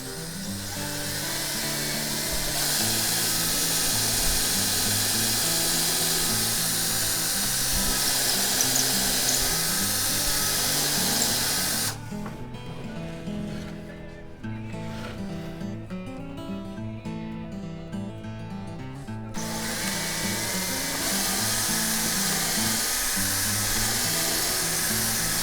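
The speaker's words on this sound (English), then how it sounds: "we're going to drill a pilot hole" A power drill whines steadily while boring a pilot hole for an eye bolt on a side bender, a loud sustained drone broken by a short lighter stretch midway before full speed resumes.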